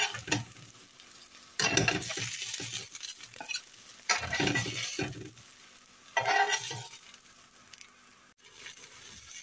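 Small potato and carrot galettes frying in a pan, soft crackling broken by three loud bursts of sizzle and scraping as pieces are lifted out and fresh ones go in, close and without speech.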